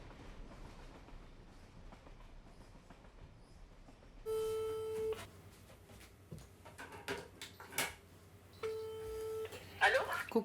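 A telephone call rings out as two separate bursts of a steady electronic ringback tone, with a pause between them, clear against a quiet room where a voice speaks softly.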